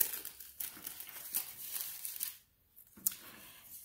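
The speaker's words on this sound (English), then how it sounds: "I love the crinkling sound" Soft, close notebook paper crinkling and rustling in uneven bursts, with a short quiet gap before one last crackle.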